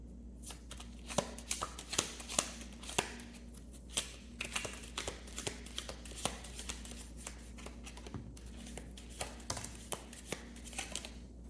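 Tarot cards being shuffled by hand, a quiet run of crisp riffling snaps and soft card slaps repeating irregularly over a low steady hum, close up with no talking.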